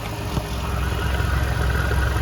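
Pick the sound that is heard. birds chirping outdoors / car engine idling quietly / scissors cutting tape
car engine idling quietly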